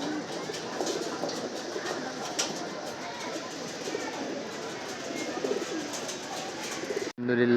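A racing pigeon at the loft gives continuous soft cooing amid outdoor bird sounds, fairly close, with a steady noisy background that cuts off abruptly near the end.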